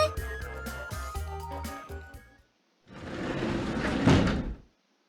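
A door opens in a visual novel video game, heard as a sharp click and knock followed after a short pause by a louder, sustained sliding rush, with no talking.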